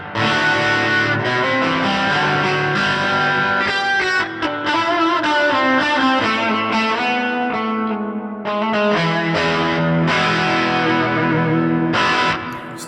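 A distorted electric guitar through an HX Stomp plays a melodic phrase drenched in reverb and echo, notes ringing and trailing into each other.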